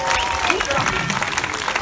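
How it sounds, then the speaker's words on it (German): Applause from an outdoor festival crowd in a castle park, a steady dense clatter of clapping filling the whole moment, with voices mixed faintly underneath. "schon mal einen großen Applaus"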